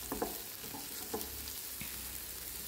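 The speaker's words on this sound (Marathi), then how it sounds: "तर इथे मी छान असे परतून घेत आहे." Vegetable rice being sautéed in a pan, with a steady low sizzle broken by a few brief scraping stirs of a spatula, close by and quiet, with no talking.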